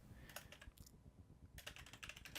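Computer keyboard keys clatter in quick bursts, a run of taps, a short pause, then another flurry, close and crisp with no talking.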